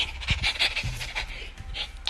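A puppy pants quickly and audibly close by, its short breaths repeating without pause.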